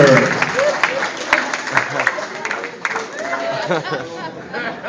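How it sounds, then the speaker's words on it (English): An audience at a Samoan-style dance competition show claps and cheers, a dense spread of applause mixed with loud crowd chatter throughout. "how about a round of applause for Lady Gaga and her partner?"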